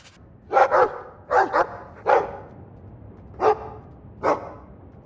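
A dog in the video game Dragon Age II barks in short clustered bursts, about seven sharp woofs spread over five seconds with pauses between groups, close and clear.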